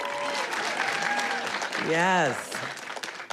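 A crowd applauds at a graduation ceremony, a continuous wash of clapping with a voice speaking and a rising cheer over it near the end.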